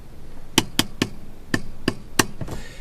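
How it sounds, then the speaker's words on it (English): A Mazda Miata NA handbrake lever pulled up through its ratchet: about seven crisp, close clicks in an uneven series over a quiet background. "pull this up about 6 clicks"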